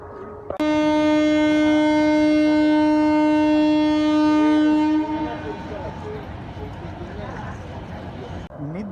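A train pulls out of Howrah station: a loud, sustained horn blasts for about four seconds near the start, then the steady rumble and clatter of the rolling carriages continues.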